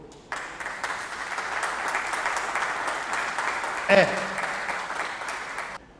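A church congregation applauds in a sustained burst of clapping lasting several seconds, fairly loud and steady, with a brief voice rising over it midway.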